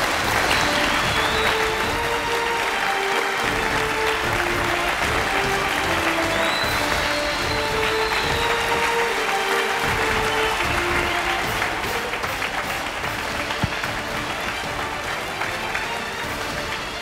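An audience in a hall applauds a TV show's guests with sustained, dense clapping that carries on steadily for the whole stretch, with music and a few faint voices underneath.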